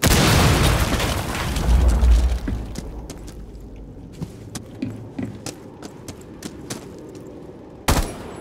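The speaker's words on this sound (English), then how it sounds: "I'm gonna climb to the roof and then detonate it." A bridge charge detonates in Rainbow Six Siege with a loud, close boom and rumbling debris, followed by scattered small cracks and thuds, then a sharp impact near the end.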